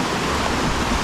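Steady close rush of a river running through woodland over mossy stones, a continuous broadband water roar with no pauses and no one speaking.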